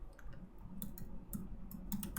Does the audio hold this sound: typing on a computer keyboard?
yes